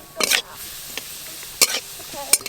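Boiled papaya pieces for homemade tutti frutti dropped into simmering turmeric water: three short, soft splashy bursts spaced across the moment, with faint voice-like sounds between them.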